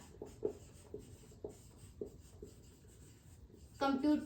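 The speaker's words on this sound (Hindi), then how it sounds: "तो हम लिखते हैं कंप्यूटर सिस्टम।" Marker or chalk scratches across a classroom board in a series of short, rhythmic strokes at close range, and a teacher's voice follows at the end.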